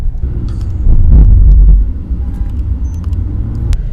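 Volkswagen Virtus 1.5 TSI GT with DSG gearbox, engine note heard from inside during a drive: a steady low rumble that swells into a louder surge for about a second, then settles back to a quieter hum.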